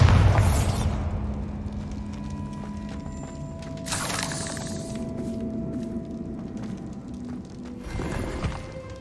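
Spell blasts from a fantasy video game bursting apart a barricade: a loud opening boom that rings off into a humming tail, then two more bright bursts around the middle and the end, with a steady tonal drone underneath.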